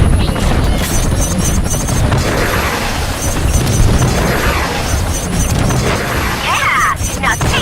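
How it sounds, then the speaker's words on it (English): Missile strikes on helicopters in the mech game Front Mission Evolved, a dense continuous roar of booming explosions and crashing impacts with rotor-like rumble, loud and sustained throughout. "Let's show them what your missiles can do to these helicopters."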